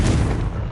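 The Confringo fire spell in Hogwarts Legacy goes off as a single short, loud, booming blast with a rumbling body that fades quickly.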